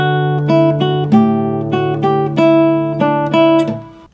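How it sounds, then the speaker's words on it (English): Classical guitar improvisation in 4/4 with a quarter-eighth rhythm, a bright sequence of about a dozen plucked nylon-string notes ringing over each other, close and moderately loud, played alone without talk. "switch to something like 4/4 and shoot for like a quarter 1/8 rhythm, and that would sound like this."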